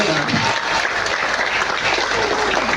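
Loud, dense applause from a large audience at a comedy performance by local artists at PKB 2024 in Gianyar, continuous thick clapping with a faint crowd murmur beneath.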